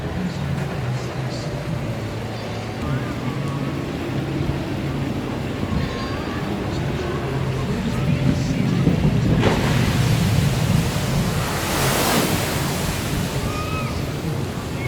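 At Thorpe Park, the Tidal Wave water ride sends a broad rushing surge of splashing water over a steady outdoor wash of background noise.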